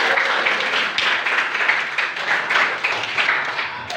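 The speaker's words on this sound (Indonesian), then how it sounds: "Tepuk tangan untuk kita." Lively applause from a group of people, dense and continuous clapping close by, swelling and dipping slightly throughout.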